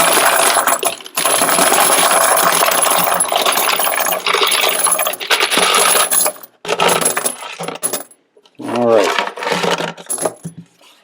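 Brass cartridge cases, dirty range brass, are dumped into a wet tumbler in a loud, continuous metallic clattering cascade, then stop; after a pause a few smaller clinks follow.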